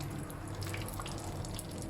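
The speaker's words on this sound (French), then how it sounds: "Donc maintenant je vais passer à la cuisson de mes autres samoussas. Donc là mon huile est chaude." Samosas stuffed with egg and potato frying in hot oil, a steady close sizzle and bubbling with crackly spatters, no voices.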